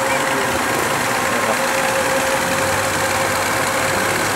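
A motorboat engine runs on the Mekong River at Si Phan Don during high water. It gives a steady, loud, rough drone mixed with broad rushing noise, unbroken throughout.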